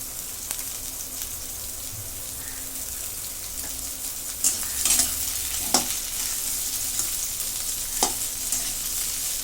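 Four medium onions fry in oil in a kadhai with a dense, steady sizzle. Scraping stirs and occasional spoon taps sound close up, with no talking.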